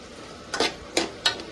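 Amaranth leaves are stir-fried in an open pan, with three quick sizzling bursts as the greens are tossed over a quiet background hiss, close and clear with no talking.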